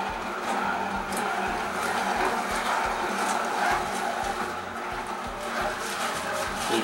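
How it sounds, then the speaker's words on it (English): A Hurom SBB11 juicer runs continuously as its auger draws in and crushes spinach, giving a steady, close grinding hum with a rough texture and no pauses over several seconds. "So I will have to use the pusher to get those down and be taken up with the auger."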